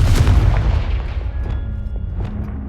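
A Confringo fire spell from Hogwarts Legacy goes off as a loud, deep boom with a rumbling low-end burst, a few sharper cracks and pops following as it fades.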